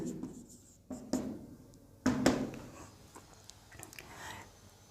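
Chalk or marker strokes on a classroom board during a physics lesson, a few short scratchy bursts with quiet gaps between them, close and moderately loud, with no speech.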